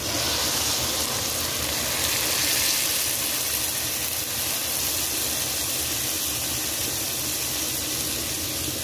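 Water poured into a pot of rice in a kitchen, a loud, steady, broadband rush that stays even and close for the whole stretch.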